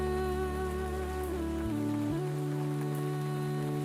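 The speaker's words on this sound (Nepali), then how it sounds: "रिमझिम वर्षाको पानी अनि साथीभाइको यो जमघट" Light drizzle falls steadily by a riverside at Tulsighat in Nadipur, Pokhara, a soft continuous patter of drops under a low, constant hum that shifts in pitch partway through.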